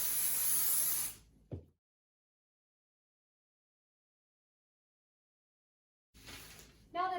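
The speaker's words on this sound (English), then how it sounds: "Press it down" Spray adhesive hisses from a can onto quilt batting in one broad burst at the start, then a short thump, a long stretch of silence, and another spray burst near the end.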